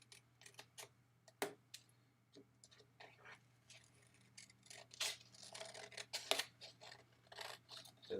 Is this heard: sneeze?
no